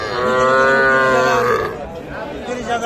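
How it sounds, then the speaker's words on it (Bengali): Calves at a cattle market in Kaharol give one long, loud moo that fills most of the clip, then fade to a busy background of crowd noise. "আমরা দেখছি যে এই পাশে কিন্তু ছোট ছোট বাছুর এগুলো।"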